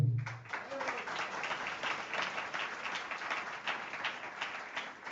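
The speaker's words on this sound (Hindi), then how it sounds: "सुनने के पहले ही ताली बजाना प्रारंभ कर देते हैं।" An audience at a Jain sermon in a Wakad, Pune housing society breaks into dense, continuous applause. It sounds like a steady, moderately loud wash of many hands clapping together, following a brief low sound at the very start.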